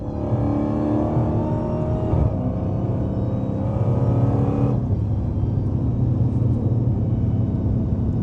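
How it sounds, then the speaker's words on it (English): A Dodge SRT Hellcat driving, its supercharger whine riding over a constant loud engine drone and road rumble, with no talking. "Y'all still should better hear the supercharger whine though."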